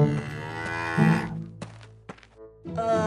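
A cartoon cow lows in a long, harmonic moo that swells and then fades, with a few short thumps after it and a second moo starting at the end, set in a Vietnamese animated folk tale.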